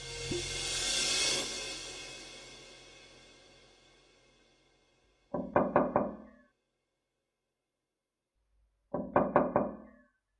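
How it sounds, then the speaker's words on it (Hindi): Two separate bursts of knocking on a door, each a quick cluster of several sharp raps, the second coming a few seconds after the first, heard alone after a fading swell of dramatic background music. "अपने अब्बू की दस्तक को पहचानती हो"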